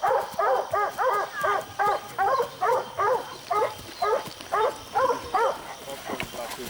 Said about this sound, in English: The dogs are getting excited and the mule's getting spooked.